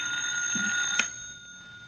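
A telephone rings in a radio drama, an electronic bell-like trill heard in a short burst against quiet background.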